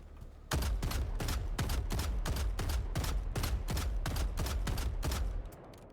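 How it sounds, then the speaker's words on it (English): Breaker shotgun firing at a mech in the video game Helldivers 2, about a dozen loud, evenly spaced blasts in quick succession, each with a sharp crack and short decay, with no talk over them. "we're going to be using the breaker shotgun and see how many shots it takes to kill the mech"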